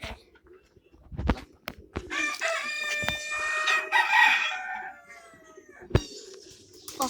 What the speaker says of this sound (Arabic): وهذا دجاج